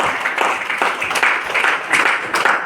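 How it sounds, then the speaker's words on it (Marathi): An audience at a memorial-day ceremony of a Gurudev Seva Mandal in Urjanagar, Chandrapur, applauds with dense, continuous clapping that swells in waves at close range. "जोरदार त्यांच्या टाळ्या वगैरे."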